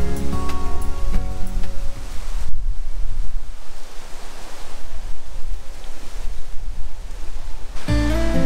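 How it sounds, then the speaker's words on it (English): Strong wind on a hiking trail in Arkansas's Ozark National Forest roars and buffets the microphone in a steady, loud rush, with a dense gusty stretch in the middle and no talk. "Windy."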